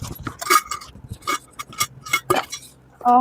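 Plate and spoon clinking and knocking as travel gear is packed, a quick irregular series of close, bright metallic taps and clatters with a short louder clank at the end, no speech.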